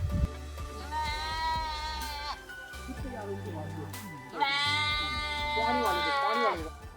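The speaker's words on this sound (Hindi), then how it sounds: "इस झुंड में बकरियां भी हैं और भेड़ें भी" A mixed herd of goats and sheep bleat repeatedly in two long bursts of wavering cries, close and loud, with people talking over the animals in between.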